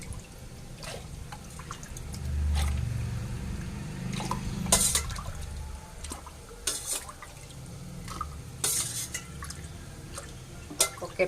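Rasam, a thin South Indian soup, poured into a lunch carrier container in a home kitchen, with soft liquid pouring, splashing and dripping at close range, plus occasional clinks, alone with no talk.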